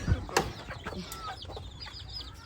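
Chickens, including young roosters, cluck in short, scattered bursts, with a few louder squawks near the start, over a steady farmyard background.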